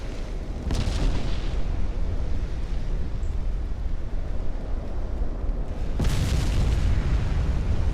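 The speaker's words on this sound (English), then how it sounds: "Oh, I love these flash fires. They're so cool to watch." Warship flash fire explosions in the naval video game Ultimate Admiral: Dreadnoughts, with a loud sustained roaring rumble and two sharp blasts, one early and one later.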